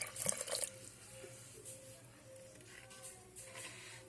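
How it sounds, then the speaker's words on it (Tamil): Plain water poured into a vessel that still holds heat, a short liquid splash up front settling into faint trickling and dripping, quiet and close, with no talk. "சாதா தண்ணி தான் ஊற்றுறேன்."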